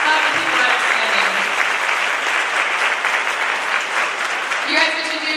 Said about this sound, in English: Round of applause, love the people that are standing.